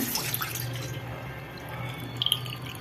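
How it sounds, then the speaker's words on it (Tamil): Water trickles and drips steadily into rice flour for ring murukku dough, a soft, close and continuous pour with a few brighter splashes near the end. "தண்ணி ஊற்றிடலாம்"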